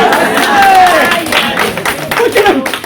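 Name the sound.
audience clapping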